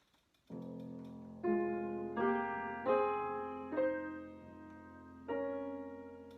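Piano chords from a slow elegy played without hand balance, each new chord struck with an even weight across the notes and left to ring, close and moderately loud.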